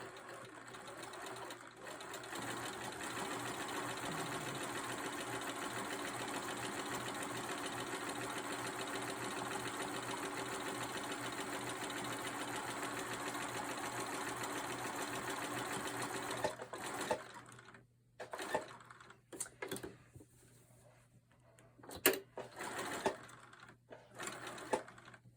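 A sewing machine runs steadily, stitching black thread on black fabric for a Halloween wall quilt. It hums continuously for about sixteen seconds, then stops and gives way to intermittent short handling noises.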